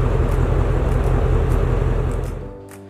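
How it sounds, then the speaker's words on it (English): A car engine idles with a steady, close, loud low rumble for a couple of seconds, then fades away near the end. "This requires letting the car idle for about a minute"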